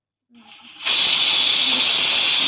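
A pressure cooker holding chicken curry on a home kitchen stove lets off steam, a faint hiss that suddenly swells into a loud, steady rushing hiss and holds to the end.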